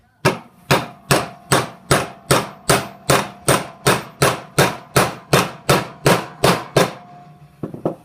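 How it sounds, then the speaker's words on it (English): Steady metallic hammer blows ring out about twice a second as a poly bushing is driven into a C5 Corvette front control arm, some fifteen loud strikes in an even rhythm, then a few lighter knocks at the end. "just really just hammer it on the rest of the way"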